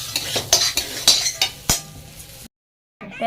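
Food frying in a pan as a utensil scrapes and clinks against it in quick, uneven strokes over a soft sizzle, cut off by a brief silence before the sound picks up again.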